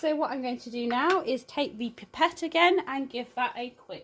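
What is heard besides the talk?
None of the usual background noises is heard.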